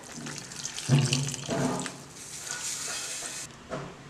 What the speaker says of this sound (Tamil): இப்போ புளி கரைசல் தண்ணியை ஊற்றுவோம்.